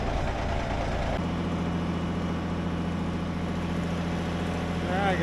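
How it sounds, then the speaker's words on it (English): An offroad wrecker truck idles steadily while warming up, a constant low engine drone with a slight shift in tone after the first second, loud and close throughout. "So once the truck warms up, we'll get it moved"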